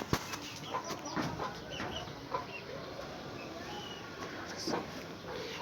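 Chickens on a rooftop poultry farm cluck softly and intermittently, with a few short bursts and a faint wing flutter over steady background noise.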